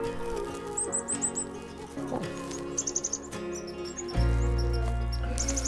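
Chickadees call with short, high chirps in bursts against steady outdoor ambience in a park, the notes fairly close and repeated in quick clusters, with a low rumble starting near the end.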